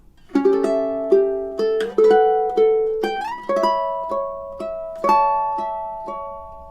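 Plucked ukulele notes form a short melodic phrase from the Romantic classical piece "Bella Vita" in steady eighth-note rhythm, bright and close, with no talking.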